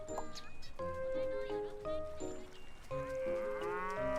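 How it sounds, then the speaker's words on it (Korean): Cattle and a calf mooing in a game scene, several drawn-out moos one after another with rising and falling pitch, loud and close over a steady background, with a short pause around the middle. "와 송아지다."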